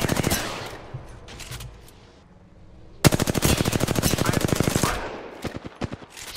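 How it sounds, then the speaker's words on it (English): Rapid automatic gunfire bursts in the Apex Legends video game, with a long, loud, evenly spaced volley after a pause and scattered shots around it, over faint game sounds. "Getting shot."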